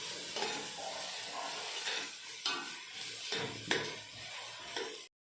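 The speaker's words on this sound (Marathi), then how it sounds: "आता सगळ्या भाज्या फ्राय करून घ्यायच्या आहेत" Vegetables fry in a hot pan for soybean chilli, a steady close sizzle with periodic stirring scrapes, ending abruptly.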